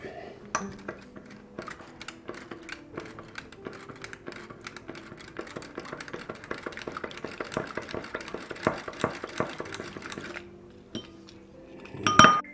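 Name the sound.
whisking egg and milk in a small bowl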